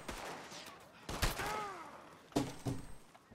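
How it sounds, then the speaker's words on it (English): A few gunshots in Red Dead Redemption 2 crack out at moderate level amid game ambience, two distinct bursts separated by about a second, with faint voices in the mix. "Seriously, dude, why are you shooting at me?"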